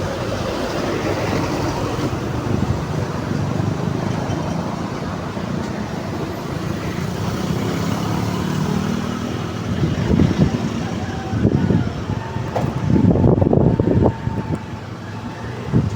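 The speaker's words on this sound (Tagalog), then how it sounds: "Daming sasakyan ngayon ah." Heavy road traffic streams past, with many cars rushing by in a continuous loud roar. The noise swells as louder vehicles pass close near the end, and nobody speaks.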